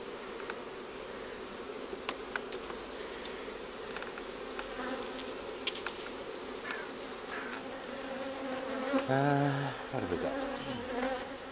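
Honeybees buzzing during an inspection of Hive 1 at Hillcrest, a steady close hum with individual bees droning past, and a brief spoken question midway.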